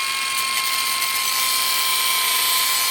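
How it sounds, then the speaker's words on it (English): A Parkside performance angle grinder fitted with a 40 grit metal flap disc runs at full speed, a loud, constant high-pitched whine with steady abrasive hiss, close up and uninterrupted, with no talking. "I've got the 40 grit Parkside metal flappy disc in there."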